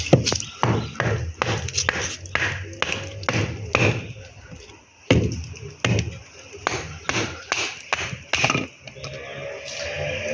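An XXL cleaver splitting very hard cirkelbos wood into smaller chunks outdoors on a cold, windy day: a rapid run of sharp, close thuds and cracks, then a few spaced heavy chops, with some talking mixed in.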